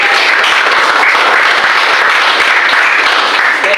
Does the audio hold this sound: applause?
yes